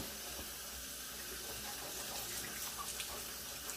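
Cold tap water runs steadily while a hat is rinsed by hand under the stream, a soft continuous hiss and splash with small bursts, no talking.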